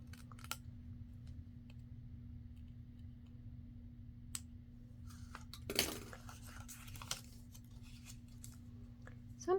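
Paper trimmer slicing through paper, a few faint clicks and small handling taps followed by one sharp quick cutting swipe in a quiet room over a low hum.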